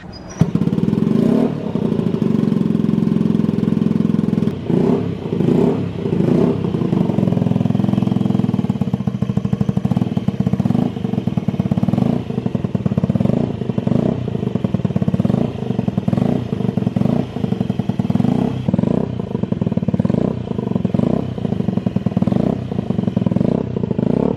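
A Honda Ruckus scooter engine with a large aftermarket exhaust on a stock engine runs loud and close, revving up and down repeatedly with a raspy, popping exhaust note.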